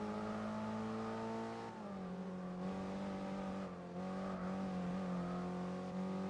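A four-cylinder race car engine in Gran Turismo drones loud and close at high revs, its pitch dipping and climbing between gear changes with a steady whirring tone.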